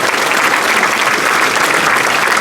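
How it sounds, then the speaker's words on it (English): Sustained applause from an audience at a school awards celebration, a dense, even wash of clapping that holds steady throughout without any talk. "Let's clap for all of them."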